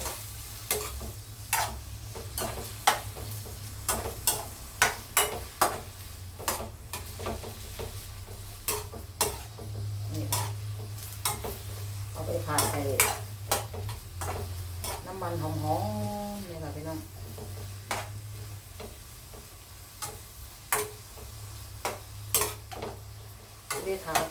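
Bitter melon with egg and minced pork stir-fried in a pan: a continuous sizzle broken by frequent sharp clinks and scrapes of a spatula against the pan, with a voice briefly talking midway.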